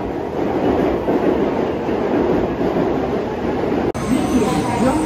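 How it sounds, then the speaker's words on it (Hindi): The Hikari 513 Shinkansen bullet train pulls fast into a Japanese station on the Tokyo to Osaka line, a loud, sustained broadband rush and rumble with a brief sharp dropout near the end, heard close up. "ये आ गई भाई हमारी हिकारी 513, भाई स्टेशन में ही बहुत तेज़ एंटर करती हैं ट्रेन तो"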